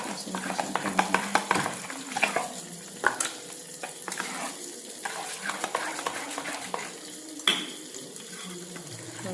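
A spoon mixes mango into shrikhand in a bowl, making close, irregular wet scraping and clinking strokes in uneven bursts, with a voice talking faintly in the background.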